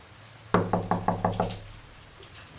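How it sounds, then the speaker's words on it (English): Six firm knocks on a door in a quick, even series, close and loud, followed by quiet with no reply. "I knock again."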